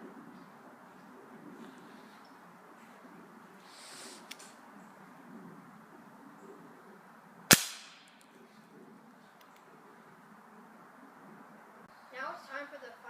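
A Gamo Hunter air rifle fires a .177 Gamo Rocket pellet, a single sharp crack midway through an otherwise quiet stretch with faint background noise and brief rustling afterward.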